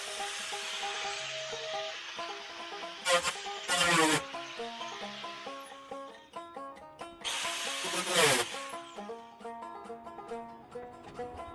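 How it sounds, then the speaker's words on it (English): An angle grinder cuts an opening in a garage wall for an air conditioner, a loud, close, high whine running steadily, with two bursts of harsher grinding as the blade bites. "if I can get the grinder over in there from this side"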